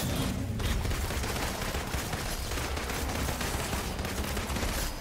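Rapid automatic gunfire from Black Widow's guns in the action game Marvel's Avengers, a dense, continuous fusillade of shots running loud and steady for several seconds with no voices.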